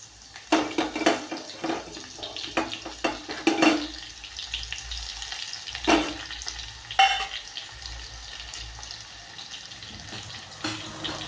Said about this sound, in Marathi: तेल तापल्यानंतर हे आपण लसूण आणि जिऱ्याचे कूट केलेला ना मोठा मोठा, तो आपण यामध्ये टाकायचा आहे असा.